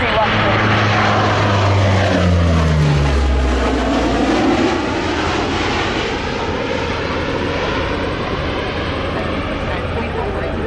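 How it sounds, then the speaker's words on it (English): A C-130 Hercules propeller aircraft flies past, a loud droning roar with a rising and falling pitch as it approaches and passes close by, then settles into a steady fading rumble. "Speaking of propellers, here comes my baby. Right to there, the c130."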